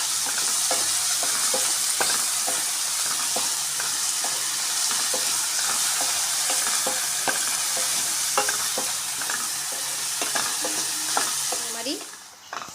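Onions sauté with a pinch of salt in a pan for a channa masala, a constant close sizzle with frequent scraping stirs and occasional clinks, fading out at the very end.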